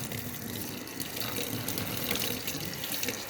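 Water runs steadily from a tap while Xbox 360 parts are washed at a sink, a continuous close hissing splash with slight fluctuations and no talking.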